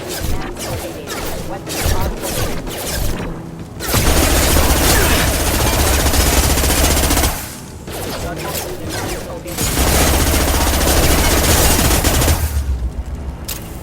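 Mechs open fire in a Mass Effect 2 battle, loud sustained bursts of automatic gunfire and crashing impacts that roll on for several seconds, pause briefly, then resume, with a voice speaking over the fighting.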